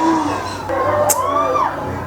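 A crowd in a Spider-Man movie scene cheers and whoops loudly, with overlapping shouts and rising, swooping voices packed into a short, dense burst.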